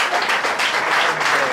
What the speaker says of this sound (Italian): C'è un applauso a Björn Larsson